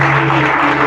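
Congregation applauding the Lord during a church sermon, a loud, dense, continuous wash of clapping over a steady low hum, sustained throughout.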